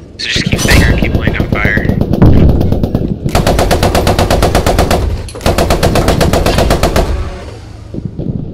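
Machine gun fire in the WWII shooter Post Scriptum from a Churchill tank battle: two long, loud, rapid bursts of automatic fire, each about two seconds, following a stretch of rumbling engine and gunfire noise.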